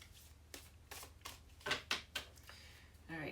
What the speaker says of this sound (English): We're going to do a good faith shuffle.